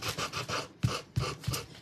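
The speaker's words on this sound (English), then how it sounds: "It's a little sanding tool." A small handheld gator sanding tool rubs against a craft piece in quick back-and-forth strokes, giving a close, soft, rhythmic rasping scrape.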